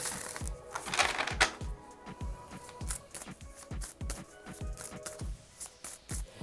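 Tarot cards are shuffled by hand in quick, repeated riffling snaps, close and fairly soft, with a few brief slides between them and no talk.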